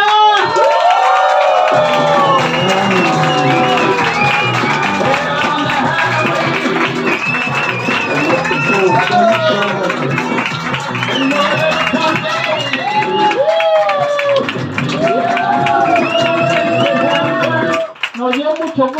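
A party audience at an adult birthday show cheers, whoops and shouts loudly and continuously for nearly twenty seconds, with clapping buried in the din and voices rising above it.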